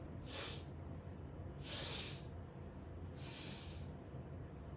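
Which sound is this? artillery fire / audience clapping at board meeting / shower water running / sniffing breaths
sniffing breaths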